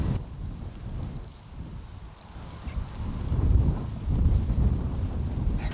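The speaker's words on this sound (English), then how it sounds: "it's getting quite windy now" Wind gusting through an outdoor vegetable garden bed in Victoria, Australia, as storms approach: a steady low rushing roar that swells louder in the second half, with no talking.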